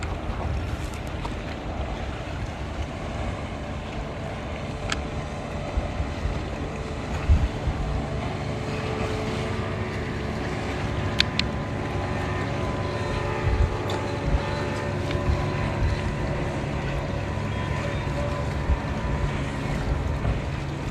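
A boat passing on the open water at Haulover Inlet, its low continuous engine drone steady and fairly faint beneath wind buffeting the microphone, with a few brief knocks.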